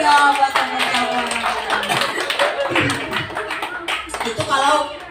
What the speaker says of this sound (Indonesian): Tepuk tangan dulu dong buat teman-teman.